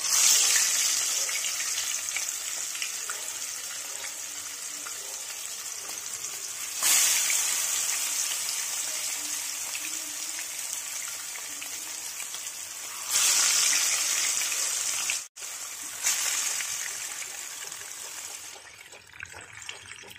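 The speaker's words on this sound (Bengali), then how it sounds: "এবার ফ্লেমটাকে একটু হালকা কমিয়ে দিয়ে ম্যারিনেট করে রাখা মাছগুলো ফ্রাইয়ের জন্য দিয়ে দিতে হবে।" Marinated rui fish frying in hot oil in a pan, a steady loud sizzle running throughout with brief surges as pieces are added or moved, no talking.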